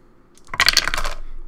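Three dice rolled for an X-Wing miniatures game clatter onto a table in one short burst of bright rattling clicks that settles within about half a second.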